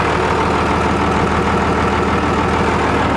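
Idling 12 valve Cummins diesel truck with compound turbos, a steady loud engine rumble with a faint repetitive ticking from the fuel pump running through it, no talk.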